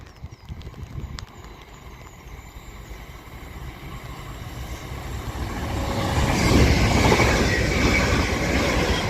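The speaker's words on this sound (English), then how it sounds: "Now passing through is going to be a heavily delayed Avanti West Coast Class 807." An Avanti West Coast Class 807 electric train passes through West Allerton station on the Liverpool branch of the West Coast Main Line. Its steady rumble rises as it draws near and swells to a loud rush in the closing seconds.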